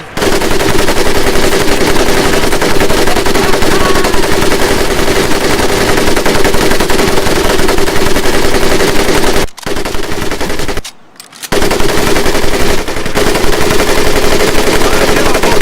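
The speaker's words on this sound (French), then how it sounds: "M1919 A4, calibre 30." Continuous loud automatic fire from an M1919A4 .30 calibre machine gun in a Medal of Honor Pacific training camp, a dense rapid rattle of shots with two short pauses before the burst resumes.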